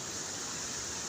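Ludur waterfall in a forested area pours in a steady, dense rush of water. The noise is continuous and even, with no voices over it.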